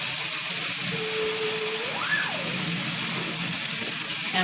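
Water runs steadily while being poured for Doukhobor bread dough, a constant hiss and gush that stays even throughout, with a brief rising and falling whistle-like tone near the middle.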